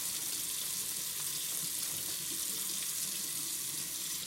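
A kitchen tap runs steadily into a sink as a corned beef brisket is rinsed under it, giving an even, close hiss and splash throughout with no talking.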